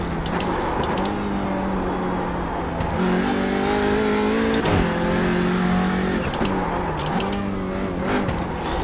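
A touring car races at Long Beach in the iRacing sim, its engine droning loud and steady with rising and falling revs through gear changes and a corner, no voices.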